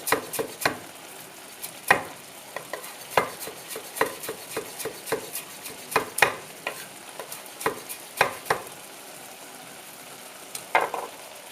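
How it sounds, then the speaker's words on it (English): A knife roughly chops fresh parsley on a board beside a pan of sizzling paella with prawns: a run of sharp, close, irregular taps spread over the whole stretch, with frying faint underneath. "Got some parsley, which I'm just going to roughly chop."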